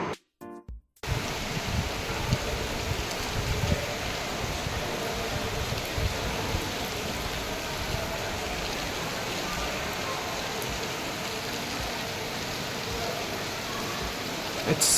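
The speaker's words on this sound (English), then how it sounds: "It's raining like crazy." Heavy rain pours down steadily as a dense, even wash of noise, loud and close, continuing unbroken after a brief quiet start.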